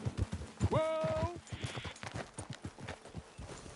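Rhythmic clip-clop of horse hooves in Red Dead Redemption 2, steady and close, with a brief neigh early on.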